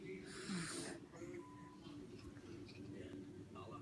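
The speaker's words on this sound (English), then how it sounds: "Is he snoring?" An elderly man snores in faint, rough, wheezing breaths at close range in a quiet room, with a soft voice briefly heard nearby.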